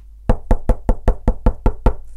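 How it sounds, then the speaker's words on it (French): Nine crisp, evenly spaced knocks land on a door, loud and close, with no talk over them. "le loup, qui l'avait suivi, frappa à la porte"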